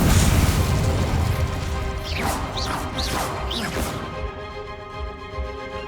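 Spell explosions from the Hogwarts Legacy video game: loud, dense booms and crashes rumble continuously, with several quick rising magical whooshes in the middle before the blasts thin out toward the end.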